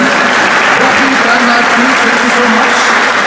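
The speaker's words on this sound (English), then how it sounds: "A round of applause for them." Dense, steady applause from a crowd at a KTM E-Mobility presentation in Austria, continuous clapping throughout with no pauses, loud and close.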